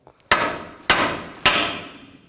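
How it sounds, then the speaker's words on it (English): Three sharp metal-on-metal hammer strikes driving down the end of a Toyota RAV4 tie rod during a front tie rod replacement, evenly spaced about half a second apart, each ringing briefly before the next blow. "So I'm just going to use a hammer and hammer it down."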